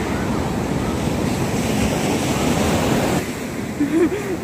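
Steady roaring ocean surf and wind on a beach near Chennai wash across the whole stretch, loud and close, with a brief faint voice near the end.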